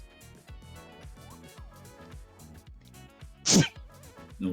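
A single sharp, loud sneeze bursts out suddenly over quiet background music, with brief talking around it.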